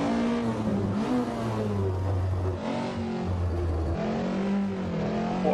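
A rally car engine in Richard Burns Rally revs hard and continuously as the car is kicked sideways on the Tour de Corse stage, its pitch rising and falling through gear changes, loud and close.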